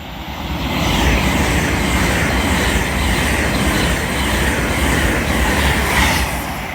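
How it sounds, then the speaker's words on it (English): An LNER Azuma train from London King's Cross to Harrogate passes through Peterborough station on the East Coast Main Line, a loud, sustained rushing roar that builds quickly and holds for several seconds with no speech. "Pass through now is an LNER Azuma service from London King's Cross to Harrogate."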